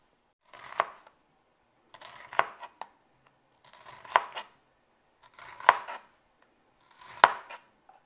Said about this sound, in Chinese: 跟住切埋啲洋葱啦。